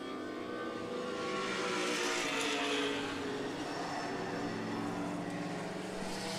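Race cars in the O'Reilly Auto Parts Grand Prix roar steadily down the straightaway, a continuous engine drone that swells slightly and then holds.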